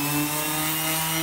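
Steady abrasive sanding drone on a Yukon truck body being prepped for paint, a continuous close buzzing hum with strong steady tones, alone without talk.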